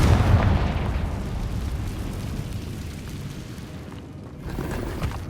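A fiery Confringo blast spell from the video game Hogwarts Legacy bursts at the start, then fades into a low, noisy rumbling tail.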